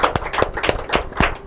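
A handful of scattered hand claps, uneven and fairly close, with no voices over them, at an inter-collegiate quiz and debate competition.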